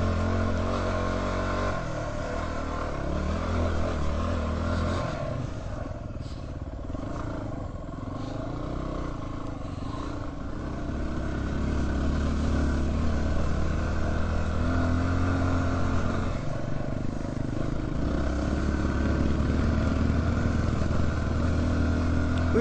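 A motorcycle labours up a steep hill of about 30 degrees on rough land, its engine droning steadily and loudly throughout, with the revs rising and falling and occasional clatter.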